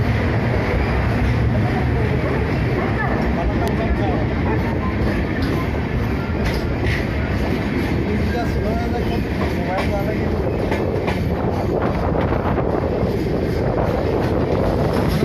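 A passenger train pulling out of Palakkad Junction in Kerala rumbles on with a constant dense rattle and wind rush, and a voice speaks over the noise.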